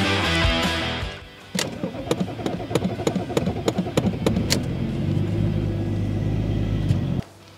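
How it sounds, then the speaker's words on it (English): A cold BMW E34 diesel car is cranked, the starter churning before the engine catches roughly and runs in an uneven, labored rumble with sharp clattering ticks, then cuts off abruptly near the end. "So this is how the car starts right now."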